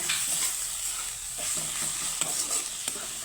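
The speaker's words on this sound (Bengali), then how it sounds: "হাফ টিস্পুন জিরার গুঁড়ো হাফ টিস্পুন ধনিয়ার গুঁড়ো তো সুন্দর করে নাড়িয়ে চাড়িয়ে নেব" Watermelon rind is stirred with cumin and coriander powder in a hot pan, giving a constant frying hiss with rhythmic scraping strokes and a couple of light knocks from the spoon.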